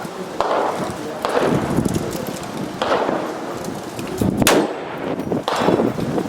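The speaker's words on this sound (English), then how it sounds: "So here we go again. 460 Magnum." Loud gunshots from a .460 Magnum fired into a Level 3A body armor vest at an outdoor test range, several sharp blasts ringing out close and forceful over a steady outdoor background.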